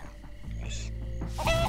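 A chicken clucks a few short times in the Minecraft Story Mode video game, set against steady in-game background sound.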